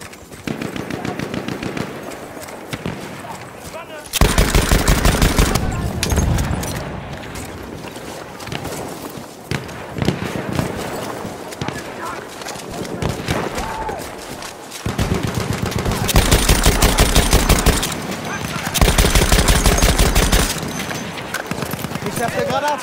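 Repeated bursts of automatic fire from a Chauchat light machine gun in Battlefield 1, loud and close, with sustained rattling strings broken by pauses, mixed with battlefield noise and occasional soldier voices.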